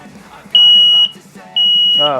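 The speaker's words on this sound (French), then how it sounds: "celui-là se met à sonner" A smoke alarm in a test fire gives two loud, piercing high-pitched beeps, each about half a second long, with a voice speaking quietly underneath.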